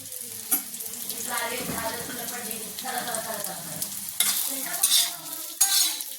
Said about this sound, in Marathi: थोड्याशा मिरच्या चांगल्या भाजून घ्यायच्या.